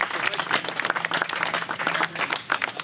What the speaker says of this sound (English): I have to give you guys a hand of applause for that